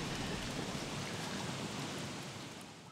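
Dense, even rain hiss in the Don't Starve video game, a continuous wash with no distinct thunder crack, heard on its own and fading slightly toward the end.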